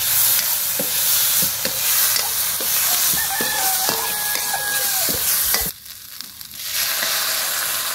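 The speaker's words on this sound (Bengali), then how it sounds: "আর 1 চামচ হলুদ দিয়ে কষায় নেব ভালো করে।" Green banana sautéing with turmeric in a pan gives a steady sizzle with stir-scrapes and spatula knocks through most of the stretch, then the frying drops to a quieter hiss near the end.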